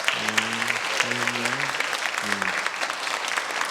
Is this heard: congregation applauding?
yes